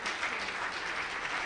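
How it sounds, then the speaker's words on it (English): Steady applause from a conference keynote audience, dense clapping that fills the whole moment without pause. "round of applause for all the"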